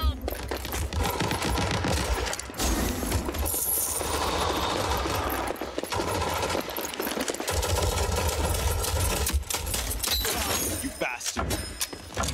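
Rapid bursts of automatic gunfire crackle repeatedly in the game Rogue Company, dense and loud, with voices talking over the shooting.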